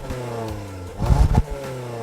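A 2019 Toyota Corolla XSE Hatchback's non-turbo engine with a CVT pulls away, its drone rising and swelling briefly as it accelerates, steady and close.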